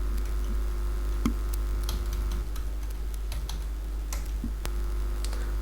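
Keys clack on a computer keyboard while a UK visit visa application form is filled in, a sparse run of separate taps and short bursts over a steady low hum.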